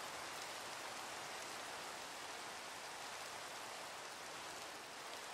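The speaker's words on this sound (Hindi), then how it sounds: "बारिश अभी तक रुकी नहीं है, बारिश आ रही है।" Rain falls in the video game Minecraft as a steady, even hiss of rain on surfaces. It continues unchanged throughout with no talk.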